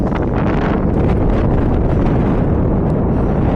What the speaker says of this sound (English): The wind is picking up a lot.